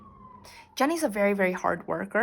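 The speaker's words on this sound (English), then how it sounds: "sorry about that siren, by the way." A siren passes outside, heard as a steady rising-falling tone in the opening half-second before a voice takes over and continues talking over it.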